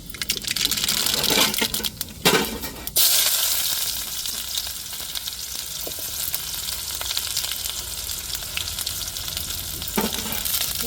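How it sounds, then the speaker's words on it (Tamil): Liver fries in a pan with a steady, loud sizzle throughout, broken by a few stirring scrapes and clatters near the start, close-up and with no talk over it. "இப்போ வந்து நம்ம ஈரலாக வறுத்து எடுத்துக்கிடுவோம்"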